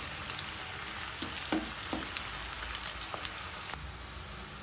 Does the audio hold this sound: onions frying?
yes